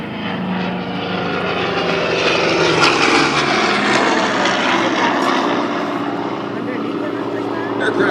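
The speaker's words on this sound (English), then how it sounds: "Aircraft you see flying here is actually an 84NA, which was built in the early 1950s with the U.S. Navy." A 1950s US Navy propeller aircraft, an 84NA, flies at an air show with a steady, loud engine drone that swells and holds throughout, while a voice talks over it.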